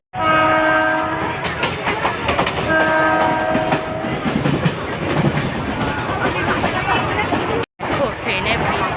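A local train heading for Kanchrapara arrives and rolls through a busy station, sounding long, loud horn blasts over a heavy, continuous wheel rumble and clatter, with crowd chatter in the background.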